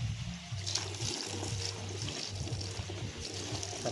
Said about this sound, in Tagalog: Lagyan mo nga ng tubig.